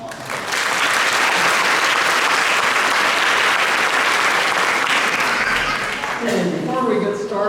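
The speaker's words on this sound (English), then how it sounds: "please give a round of applause to all the people who make this possible." Sustained audience applause at an award ceremony, a dense, steady wash of many hands clapping that fills the room, with voices starting up near the end.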